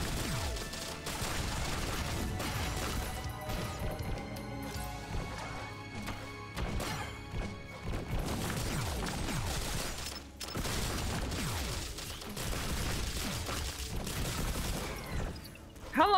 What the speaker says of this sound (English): Wow, that is a lot of mortars, huh?